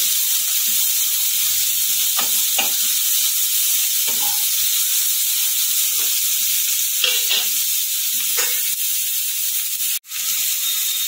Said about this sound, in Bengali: পেঁয়াজটা আমি একটুখানি ভেজে নেবো।